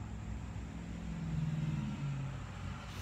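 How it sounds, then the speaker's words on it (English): A car engine rumbles close by, growing louder and passing, with steady road noise throughout. "there's a loud car coming."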